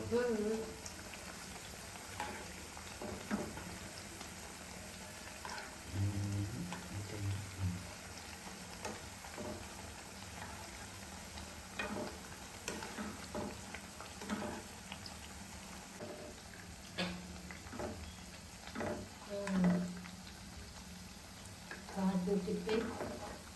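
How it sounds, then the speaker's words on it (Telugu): Bread pieces fry in a pan for double ka meetha, a continuous close sizzle with scraping stirs and occasional clinks of a utensil, while voices talk intermittently over the cooking. "ఇలా కాల్చుకోవాలి బ్రెడ్ ముక్కల్ని"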